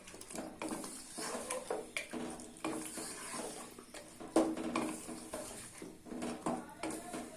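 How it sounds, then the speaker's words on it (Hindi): Mutton karahi stirred and roasted in a pot, the spoon scraping and clinking against metal in uneven strokes over a steady low sizzle, close and fairly loud, with no talking. "मिक्स करते हैं और इसकी अच्छे से बुनाई करते हैं।"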